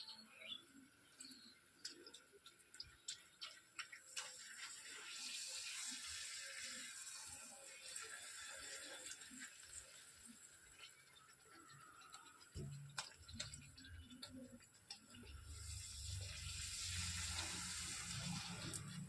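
Puchka puffs frying in hot oil at home, a steady broadband sizzle that holds for the whole stretch, growing fuller and louder near the end, with scattered small pops and clatter and no talk.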